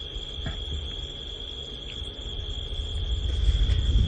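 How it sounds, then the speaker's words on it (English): A lone cricket stridulates on a single steady, unbroken note at dusk on an African safari drive, with a low rumble of wind underneath that grows toward the end. "single solitary one note of a stridulating cricket"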